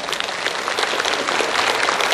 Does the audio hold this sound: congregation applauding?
yes